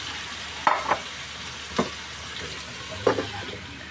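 Food sizzles steadily in a hot pan, with a few scraping clacks of a utensil stirring at irregular intervals.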